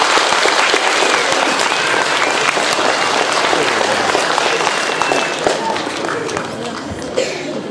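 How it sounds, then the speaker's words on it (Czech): A school audience applauds the youngest students about to perform as ancient gods, a loud, dense burst of clapping that stays strong and slowly thins toward the end. "podpořte je prosím potleskem"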